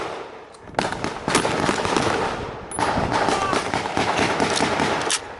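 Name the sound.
blank gunfire during D-Day battle reenactment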